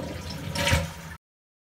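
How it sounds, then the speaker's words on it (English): A household toilet being flushed with its supply valve shut off, a short close rush of draining water that swells then cuts off abruptly after about a second. "Let's go ahead and flush it a couple times."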